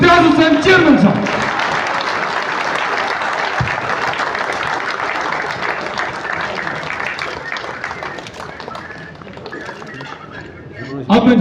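A crowd at a tournament prize distribution ceremony breaks into sustained, loud applause that fills several seconds, bracketed by an announcer speaking over a PA at the start and end.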